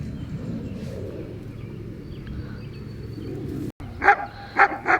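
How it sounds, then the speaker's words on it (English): A dog barks in a few sharp, fairly close bursts near the end, after a stretch of low outdoor rumble in a backyard garden. "barking at the cat"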